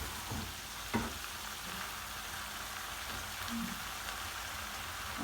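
Minced beef and onion sizzle and fry steadily in a pan for a pie filling, a continuous hissing crackle with a brief clatter of stirring near the start and no talk.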